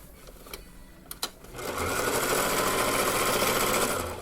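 A sewing machine stitches the curved hem of a skirt, following an earlier zigzag stitch: a few faint taps and clicks, then a steady, loud mechanical whir that runs continuously near the microphone with no talking.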